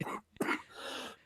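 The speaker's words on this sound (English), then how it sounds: "excuse me, my cough is much better," A man coughs during a live studio recording session, giving a couple of harsh, close, throat-clearing bursts in quick succession.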